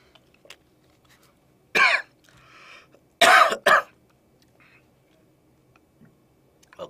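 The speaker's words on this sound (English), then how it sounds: "So I'm getting the coughing sensation." Three sharp coughs close by, one and then a quick pair a moment later, separated by quiet pauses.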